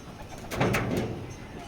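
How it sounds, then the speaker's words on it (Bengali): Young female racer pigeons give a soft, close coo in one short rolling phrase over a quiet room background, and no one speaks. "এটা হলো মাদি জোড়া ইয়াঙ্ক কবুতর"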